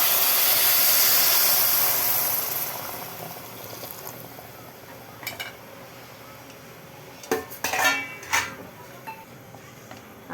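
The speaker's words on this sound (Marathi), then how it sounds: "तर ह्यामध्ये आपण गरम पाणी टाकूया." Boiled hot water poured into a pot of mutton paya soup makes a loud rushing splash for about two seconds, then fades out. A few scattered clinks of the pot and utensils follow.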